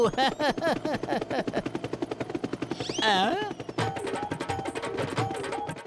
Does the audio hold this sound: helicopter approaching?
yes